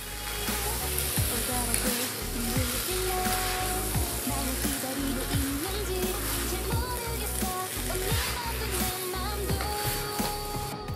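Spicy garlic seafood udon with green onion and green and red chili being tossed in a hot pan, with steady loud sizzling and frying throughout and repeated scraping stir strokes.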